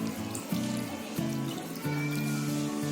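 Water is poured into a pressure cooker in short gurgling bursts, with a rising, bubbly fill tone between pauses, heard close and at moderate volume.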